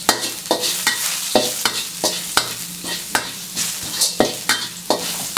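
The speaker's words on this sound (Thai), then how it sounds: "กระเทียมนะครับ ที่เรา ทุบเอาไว้ นิดหน่อยนะครับลงไปคั่วให้น้ำมันหอมอย่างเดียว" Crushed garlic sizzles in hot oil in a wok while a spatula scrapes and stirs in a steady, repeated rhythm, close and fairly loud.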